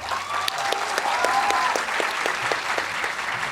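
Sustained applause from an audience at a medical college convocation ceremony, a dense steady wash of hand claps filling the whole stretch at fairly loud, even level.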